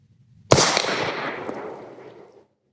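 A single loud handgun shot cracks at a shooting range. The sharp report rings out and echoes, then decays over about two seconds, with no talk.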